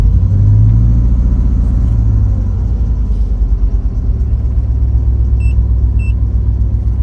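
A car engine idling at about 1100 RPM, a loud, steady low rumble with a smooth, even pulse throughout, heard up close with no voices.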